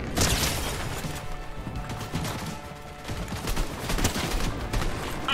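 Sustained, dense gunfire in a shooter video game crackles in rapid overlapping bursts with loud impacts and mechanical clatter, continuous and close throughout with no clear talking.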